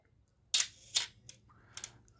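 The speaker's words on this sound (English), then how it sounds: "I'm going to try one of the slower shutter speeds again." An Olympus OM-1 film camera with a suspected worn spring fires its shutter at a slow speed: a sharp mechanical click, a second click about half a second later, then a couple of softer clicks, close up in a quiet room.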